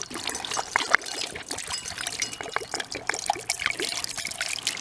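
Water is poured out for a dog during a hike, making an uneven splashing trickle that runs continuously for several seconds, close by and with no talking over it.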